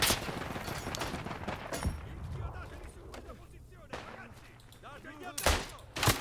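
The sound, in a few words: grenade explosion and gunfire in video game Isonzo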